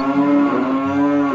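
A cow in a cartoon gives one long, loud, close moo that holds steady for over a second with no voices over it.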